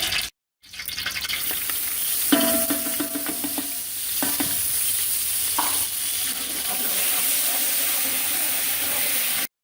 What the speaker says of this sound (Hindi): इसको 1 से 2 मिनट जो है इसमें तल लेना है